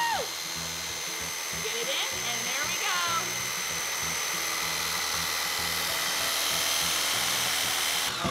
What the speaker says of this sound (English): are going to cut the hole in the top with the jigsaw